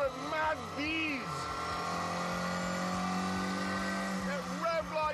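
A Ford Cortina's twin cam 1.6 litre engine revs hard and buzzes steadily at high pitch, rising and falling, with a voice talking over it.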